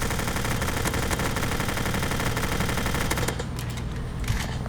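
Sustained rapid automatic gunfire from a weapon in the Roblox-style game Mad City, loud and continuous for about three seconds before trailing into scattered shots and clatter; no talking.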